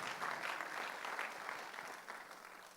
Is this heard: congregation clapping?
yes